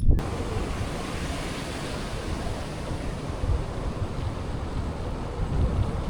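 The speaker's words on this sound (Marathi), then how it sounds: "आता इकडे झिरपीला पण पाणी झालं आहे ओढ्यासारखं, हे बघा" Rainwater rushes steadily like a stream during heavy rain, a dense unbroken wash of flowing noise that stays loud and close throughout.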